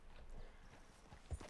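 Horse hooves clip-clop in a video game, a soft rhythmic trot of muffled thuds, faint and brief with a single heavier knock near the end.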